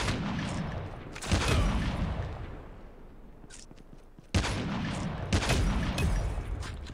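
Gunfire in Call of Duty Mobile, during an Arctic 50 free-for-all match, comes in two loud, dense bursts of rapid shots with a quieter gap between them, each burst dying away gradually.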